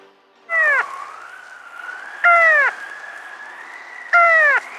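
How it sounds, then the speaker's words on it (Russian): A Soviet lunar probe's radio signal sounds as a steady electronic tone, broken three times by short swooping bursts of falling pitch, clear and isolated against a quiet background. "Это голос лунника."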